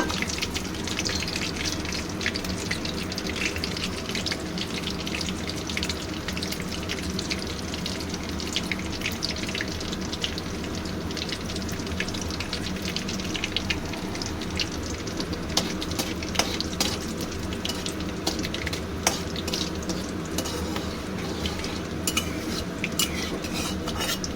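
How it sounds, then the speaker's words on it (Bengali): Whole spices for a tempering fry in hot oil while a mutton keema and rajma dish is being made. A steady crackling sizzle runs throughout, with scattered clinks and scrapes of a utensil against the pan. "দিয়ে দিলাম ফোড়নটা।"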